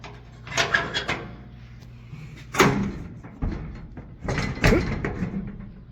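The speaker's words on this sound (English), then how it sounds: "It does have the cargo doors on the back, so that's pretty cool." Rear cargo doors on a 1973 GMC grain truck being opened, one after the other, with a series of close, loud wooden and metal clunks, rubs and knocks spread over several seconds, no talk.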